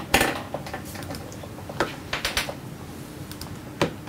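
Typing on a computer keyboard, quiet irregular clicks and taps spread over a few seconds, with a few louder keystrokes.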